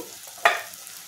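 Crabs frying in a pan for a village-style dry curry hiss softly, broken by one sharp spatula scrape partway through. Otherwise the sizzle stays quiet and low, with no voices.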